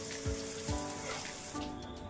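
Egg omelette frying on both sides in a pan for egg fried rice, a steady close sizzle with a couple of soft low thumps as the egg is moved or flipped.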